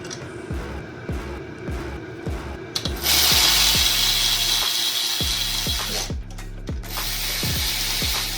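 A hand ratchet clicks in steady rapid strokes while tightening head bolts on a 650 hp police car engine build, then a loud whirring power tool runs mid-clip before the ratchet clicking resumes, close and clear with no talk.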